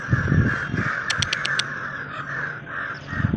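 Several crows caw in a short burst of harsh, repeated calls, set against a steady outdoor hum and some low rumbling noise.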